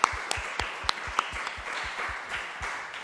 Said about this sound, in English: Can we give them just another round of applause?